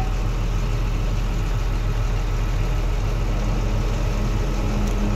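An Ashok Leyland truck engine idles steadily, a constant low diesel drone with an even mechanical chug that stays loud and unchanged throughout, with no voices.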